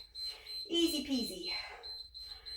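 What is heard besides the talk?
workout timer alarm going off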